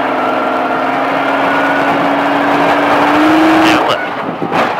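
Exotic car on the off-road Baja course at Speed Vegas, engine droning loud and close with a steadily rising pitch as it accelerates, then a sharp drop as the throttle lifts.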